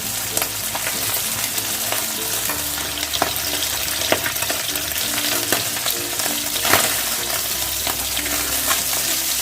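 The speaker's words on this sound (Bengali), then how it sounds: "এভাবে আমি এপিট ওপিট করে বেশি ভাজবো না হালকা ভাজবো" Small tangra fish fry lightly in a pan over medium gas, a steady close sizzle broken by scraping stirs and turning clinks, with no voices.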